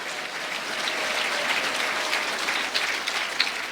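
A church congregation breaks into strong applause during a worship service, dense continuous clapping holding steady for several seconds with a few sharper claps standing out near the end.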